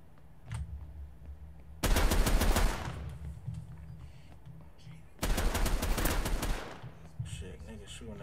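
Two loud bursts of rapid automatic gunfire in a video game, each lasting about a second, aimed at the player, with quieter game ambience and faint scattered shots between them.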